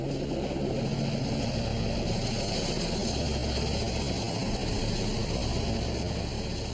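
Firefighting helicopter engine and rotors droning steadily at a high-rise fire at Tokyo's Sky City, a continuous loud roar with no pauses.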